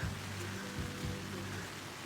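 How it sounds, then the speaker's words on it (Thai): Soft, steady patter of light rain falling on a surface outside a tent at a campsite, continuous and even with no voices. "ฝนตอนนี้ตกไปปอยนะฮะ"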